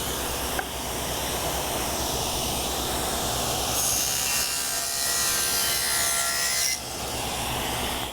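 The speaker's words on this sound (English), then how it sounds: "I'm just going to cut that on the chop saw just to finish it off." A chop saw cuts a chamfer facet into wood with a continuous harsh grinding rasp, rising to a louder, higher whine through the middle of the cut before easing off.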